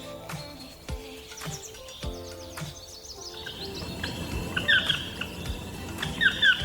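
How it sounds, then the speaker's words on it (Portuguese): Wild birds chirp and call intermittently at a distance in the Pantanal, with scattered sharper calls and a low background rumble. "eles não são apenas pássaros, mas o som vibrante da natureza selvagem"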